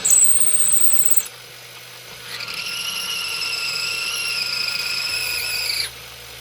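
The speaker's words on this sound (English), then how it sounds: "we're going to use the RCBS tool here to take these big nasty burrs off that are left over from the trimming" An RCBS tool deburrs freshly trimmed rifle cartridge cases, giving a close, steady high-pitched whine in two sustained runs separated by a short quiet pause.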